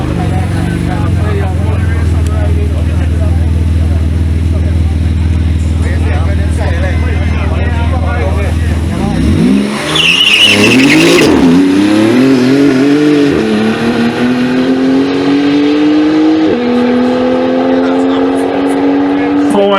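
A loud Porsche race car idles on a drag strip with a low rumble, then launches hard, its engine revving up and climbing steadily in pitch as it accelerates away.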